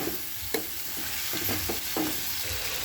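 Softened pork ribs sautéing with tomato in a hot pan for a pochero, a steady loud sizzle broken by a few clattering stirs, no voices.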